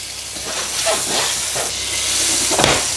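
Butter and oil sizzle in a hot pan ready for burgers, a steady close hiss with bursts of spattering and steamy rushes, loud and continuous, without speech.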